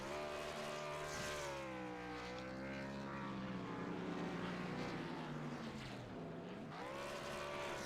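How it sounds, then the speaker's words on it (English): An ANZCAR Thunder race car does victory burnouts at Las Vegas, its engine roaring and revving continuously with rising and falling pitch, loud and sustained. "we will just go back to Jason for the victory burnouts"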